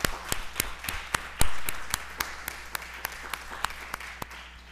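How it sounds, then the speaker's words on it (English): Sparse, scattered clapping from an audience at a community talk on race relations, with individual claps standing out sharply over a low hum rather than forming a full ovation. "Please give another round of applause for Mr."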